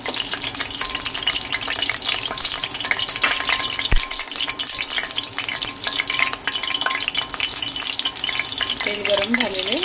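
Hot oil in a kadhai sizzles and crackles steadily, ready for frying stuffed bitter gourds. The frying is close and continuous, with a brief sharp clatter near the middle and a slight bubbling swell toward the end.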